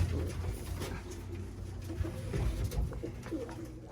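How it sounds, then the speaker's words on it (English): Birmingham Roller pigeons coo low and steadily, close by, over soft rustling and pattering in a loft during feeding time, with several soft calls overlapping throughout. "Real nice pigeon."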